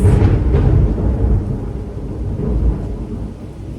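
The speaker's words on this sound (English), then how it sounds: "That rain is coming in heavy, y'all." Heavy rain pours down while deep thunder rolls loudly and close, a dense continuous rumble that swells and slowly fades, with no voices.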